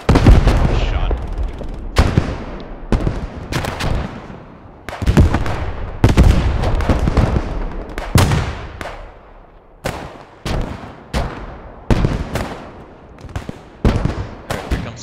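Gunfire in Squad 44 at a bridge in Arnhem. Loud single rifle shots crack every second or two, each with a long echoing tail, with distant battle noise and some voices underneath.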